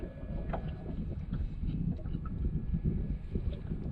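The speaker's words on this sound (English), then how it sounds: "Wind's getting stronger and stronger, which means my ride back could suck." Strong wind buffets a boat on Lake Powell in winter, giving a loud, steady low rumble of wind noise against the microphone with faint water and hull sounds underneath.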